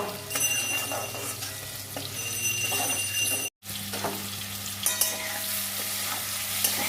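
Boiled potatoes fry in a pan for a yam and potato curry, a continuous close sizzle and crackle broken by a short silent gap partway through, with stirring clinks and no voices.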